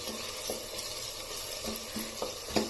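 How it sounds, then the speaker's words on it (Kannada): Onions sizzle as they fry in hot oil over a high flame, a steady close crackle with a few soft stirring scrapes of the pan and no talking. "ನೋಡಿ ಫ್ರೈ ಆಗ್ತಾ ಇದೆ ಅಲ್ವಾ. ಇವಾಗ ಈರುಳ್ಳಿ ಬ್ರೌನ್ ಆಗ್ತಾ ಇದೆ ನೋಡಿ"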